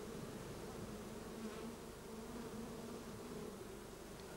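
Honeybees buzzing around a single-walled hive, a dense continuous drone that stays steady and close, with no voices over it.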